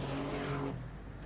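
A Porsche 930 Turbo race car drives a street circuit, its engine roaring loudly with a sustained, throaty drone that drops off abruptly after a moment.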